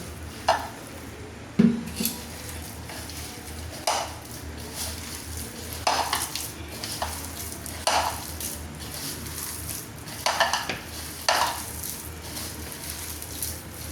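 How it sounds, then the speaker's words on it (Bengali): Sliced onions are squished and mixed by hand with a little water for piyaji batter, giving soft wet squelches and occasional light clinks against the bowl, close and intermittent without speech. "প্রথমে আমি জল না দিয়ে পেঁয়াজটা দিয়ে আমি মাখিয়ে নিচ্ছি"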